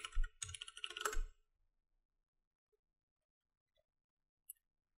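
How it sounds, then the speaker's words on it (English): A short burst of rapid computer keyboard clicks as a password is typed, close and crisp for about a second, then near silence with a single faint click later. "type in my password"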